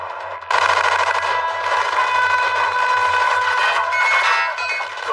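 Sustained rapid gunfire pounding an armored car in an animated series, a dense continuous metallic clatter at steady high loudness for several seconds, with a low hum beneath and no speech.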